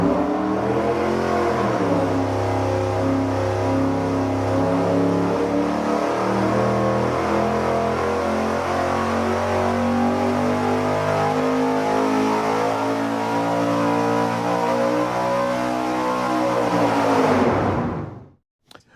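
A carbureted-competition V8 fitted with sequential fuel injection and a throttle body revs on an engine dyno, a loud sustained roar that climbs steadily in pitch for about seventeen seconds before cutting off abruptly.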